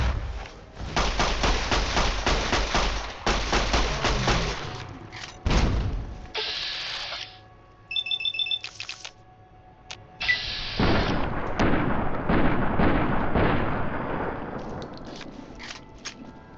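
Rapid bursts of gunfire from Fallout New Vegas erupt in dense volleys, broken by heavy booms and short pauses, with a few electronic beeps in between, loud and close throughout.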